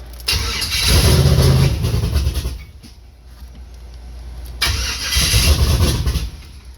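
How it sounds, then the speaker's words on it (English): A turbocharged LS-swapped Chevrolet S10 pickup fires up, its engine cranking and catching into a loud rumbling roar, dipping briefly before revving again, heard close with no talk. "About to fire up and see if the back wheels move at all."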